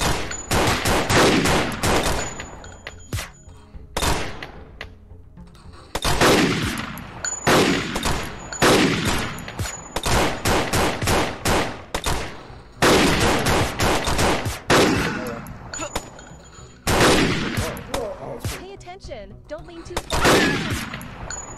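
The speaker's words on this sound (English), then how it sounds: "Shots." Rapid bursts of gunfire in the Crime Cracker VR shooter game, loud and dense volleys recurring in clusters with short pauses between them.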